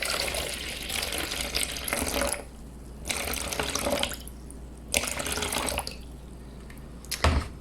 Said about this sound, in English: we're going to measure out our water